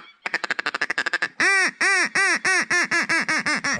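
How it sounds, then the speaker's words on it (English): Ducks quacking on a pond during an alpine hunt in New Zealand: a rapid run of short, clipped quacks, then a slower series of longer, loud, nasal quacks, close by and steady in rhythm, with no talking. "We got a good variety of quacks today,"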